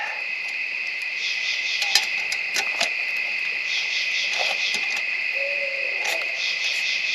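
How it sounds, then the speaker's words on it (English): Soft owl hoots sound now and then over a steady high chorus of night insects at a hardwood woodland campsite, with a faint patter in the background. "you hear the owls?"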